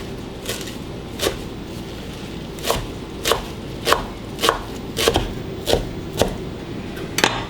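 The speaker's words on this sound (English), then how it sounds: "So I'm gonna give a rough chop so they're not like kind of big pieces." Kale roughly chopped with a knife on a cutting board for a summer quinoa salad: about eleven sharp, evenly spaced knife strikes over roughly seven seconds, each a crisp thud against the board, close and clear with no talk.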